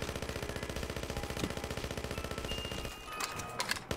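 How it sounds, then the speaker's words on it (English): Rapid automatic gunfire in a Black Ops 3 zombies tower map, steady and loud throughout, then breaking into a few sharper isolated shots near the end with no talk over it. "Whoa, that's a sniper."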